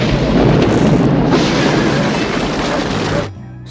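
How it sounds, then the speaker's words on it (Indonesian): A film explosion outside, a dense, loud, sustained rumbling blast lasting about three seconds before cutting off abruptly into quiet. "Percakapan mereka akhirnya terputus oleh sebuah ledakan di luar."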